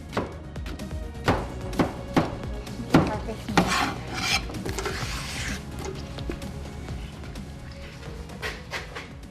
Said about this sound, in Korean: 동물들의 체격과 특성을 고려하며 과일과 채소가 한 입에 쏙 들어가도록 각기 다른 크기로 썰어냅니다